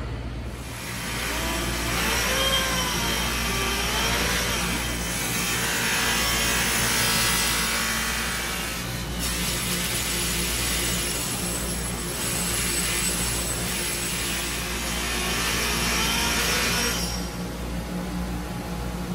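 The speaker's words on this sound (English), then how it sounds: "I'll go ahead and buff it and it should look better." A sanded part of a 1981 Schwinn Le Tour bicycle being buffed after fine-grit wet sanding, a loud continuous whirring drone with a faint high whine and slow swells in intensity, no one speaking.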